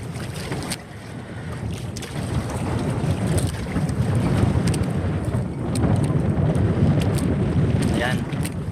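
Strong, gusty wind roars steadily across a shallow shore under overcast skies, buffeting the microphone in a dense low rumble that swells and eases slightly throughout.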